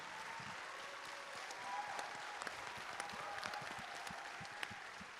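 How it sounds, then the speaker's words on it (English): Film festival audience giving a round of applause after a screening, a steady wash of many hands clapping, fairly distant and soft, with a few sharper claps standing out. "So please give these guys a huge round of applause."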